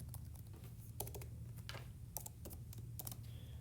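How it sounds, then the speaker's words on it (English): Keys tapped on a computer keyboard while an agent number is entered, a few quick faint clicks in short bursts over a steady low hum, with no talking. "So type in an agent number"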